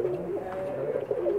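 Steady, low cooing of Pakistani pigeons, a continuous throaty murmur with soft repeated rises, close by and without voices.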